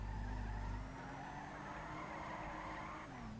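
Car sliding sideways with a handbrake turn in a video game, a sustained tire skid and squeal over a droning engine, loud at the start and then steady for a few seconds, with no talk.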